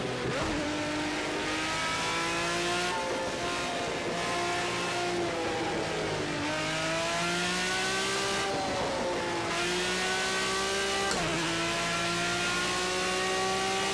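BMW V12 LMR race car engine in Project Cars 2, loud and continuous, revving up through the gears with sharp drops at each shift and repeated rising pitch sweeps as it accelerates.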